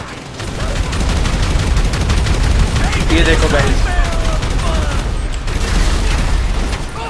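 Rapid gunfire and explosions from a fire-bullet cheat in GTA V, loud and continuous bursts of shots and booms throughout, with someone talking over the barrage.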